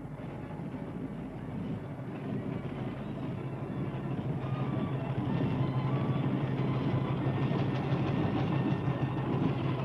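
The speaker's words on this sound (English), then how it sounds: "Children were also able to enjoy the rides on the miniature railway" A small miniature railway train at a 1967 traction engine rally in Derby rumbles along continuously, with a low engine drone and faint rhythmic clatter of wheels growing slightly louder toward the end.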